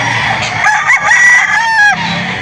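A Sweater breed rooster crows loudly and close by at a livestock auction market in Lipa City, delivering one long, strained cock-a-doodle-doo with a few clucks around it and no talking.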